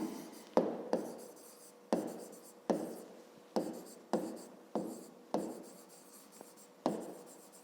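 A pen writes on paper during a fifth-grade math exercise, with about ten distinct strokes. Each stroke starts with a tap and fades into a short scratch. The sound is close and quiet against a silent background.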